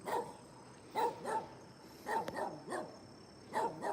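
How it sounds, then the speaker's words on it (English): A dog chained up outdoors at a farm with barned cattle barks in four spaced bursts, moderately loud, with soft background noise between. "And they got a dog chained up."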